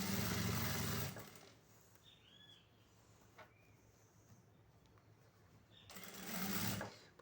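A sewing machine stitches the seam of a newborn's cloth bath towel in two short, loud, close bursts of rapid whirring. Quiet handling sounds fill the gap between them.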